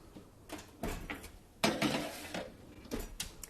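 Clattering kitchen handling as a tray of sourdough English muffins goes into a lower oven: scattered metallic clunks and knocks of pan against rack, with one sharper bang midway and softer rattles around it.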